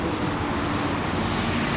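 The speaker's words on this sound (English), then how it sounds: "Incheon International Airport." A fixed-wing airplane at Incheon International Airport gives a steady, loud engine roar that stays even throughout, with no voices.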